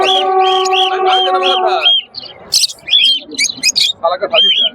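Birds at a market selling ducks, chickens and goats chirp loudly and continuously, with a sustained whistling call followed by bursts of bright, overlapping tweets close by.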